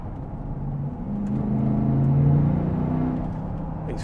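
Audi Q7 with a 4.2 TDI V8 diesel fitted with V12 turbos accelerating hard, a steady low engine drone swelling and then easing slightly, heard from inside the car with no talk.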